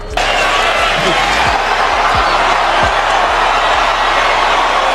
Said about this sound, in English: Huge crowd in attendance. Many of them on their feet in anticipation for this much anticipated fight.